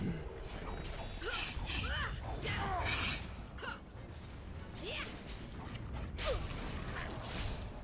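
Door creaking in Dragon Age: Origins, the Witch Hunt DLC, heard as a few drawn-out creaks and mechanical clunks over game ambience, with a crash-like burst near the end.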